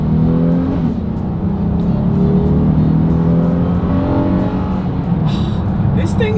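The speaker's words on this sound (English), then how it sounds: "let's see how quickly the Honda Odyssey here can get us up to speed" A 2026 Honda Odyssey minivan in sport mode accelerating hard, its engine note a loud, steady droning roar with rising tones heard from inside the cabin, while people talk over it.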